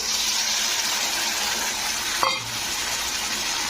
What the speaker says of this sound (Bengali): এই সসটা আমি দিয়ে দিলাম